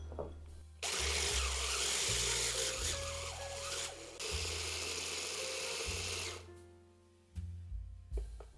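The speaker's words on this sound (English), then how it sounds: "I want to grind it until it is a really fine powder." Electric grinder whirring loudly as it pulverizes a blend of dried whole spices into fine powder, running in long continuous bursts with brief pauses and pitch changes before stopping.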